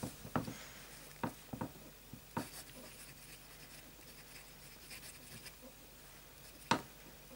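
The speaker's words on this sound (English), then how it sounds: "we should do a little bit of normal writing with a medium nib" A fountain pen with a medium nib, writing in red ink, scratches across paper in short separate strokes, quiet and close, with brief sharp taps between strokes and no talking.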